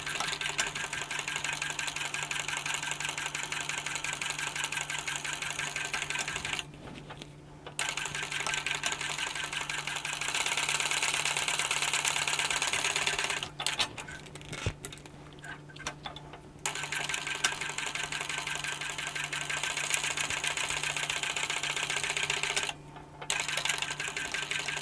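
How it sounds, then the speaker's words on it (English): A sewing machine top stitches down each side of a small tote bag's fabric connector piece, a steady close-up mechanical whir that runs in long bursts with a few brief pauses between seams. "Now let's top stitch down each side of the connector piece."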